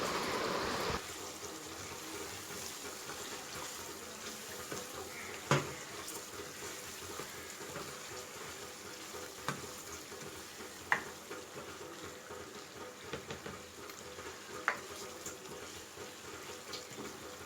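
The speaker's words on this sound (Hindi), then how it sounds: "अब मैं इसमें ज़रा सा चम्मच चलाऊँगी।" Mutton karahi kaleji with its spices cooks in a pan over medium flame while a spoon is worked through it, giving a continuous soft sizzle with a few sharp scraping knocks scattered throughout.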